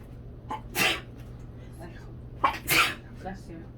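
Two sharp sneezes, about two seconds apart, burst out close by over a low steady hum.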